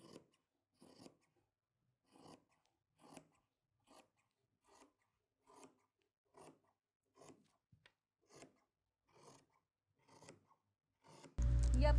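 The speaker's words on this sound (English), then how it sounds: "So, Irina Mikhailovna is cutting it almost straight." Scissors cut fabric for a wrap pencil skirt in slow, regular snips, about a dozen evenly spaced crunching cuts, close and fairly quiet, ending in a sudden loud burst of noise.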